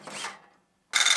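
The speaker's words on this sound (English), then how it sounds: "I'm just going to use a flat file and file those down" A flat file rasps across burrs on freshly drilled metal: one scraping stroke, a short pause, then a brighter, harsher second stroke, close up.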